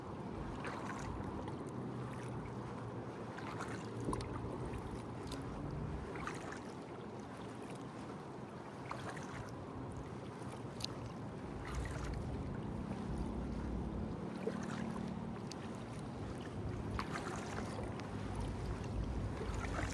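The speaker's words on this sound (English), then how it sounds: "There is a little bit of wind, a nice breeze now" Light breeze while kayaking on water at Amsterdam Bos: soft wind noise and gentle water sounds run steadily for twenty seconds, with faint splashes and knocks from the boat now and then, quiet and with no talking.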